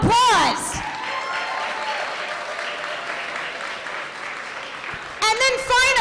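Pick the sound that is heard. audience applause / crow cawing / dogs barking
audience applause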